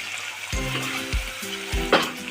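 Mung dal and fish head frying in a pan for muri ghonto, stirred with a few heavy spoon scrapes and knocks over a constant close sizzle.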